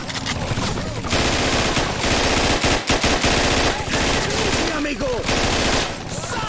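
Sustained automatic gunfire from a weapon in the video game Scarface: The World Is Yours, a loud continuous rattle of rapid shots with brief pauses, dense and close over about six seconds.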